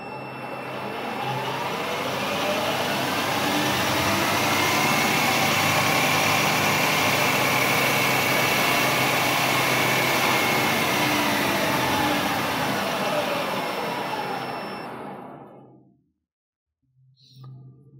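A SIEG SC10 benchtop metal lathe motor spins steadily with a loud, even whine that holds for about fifteen seconds as it runs up toward 2000 rpm, then cuts off abruptly and leaves a brief faint click afterward.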